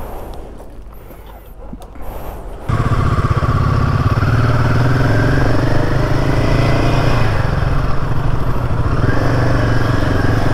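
A Royal Enfield Himalayan 450 motorcycle starts riding. Quieter wind and faint background sounds come first, then a loud, steady engine roar kicks in abruptly and holds at cruising speed, heard up close.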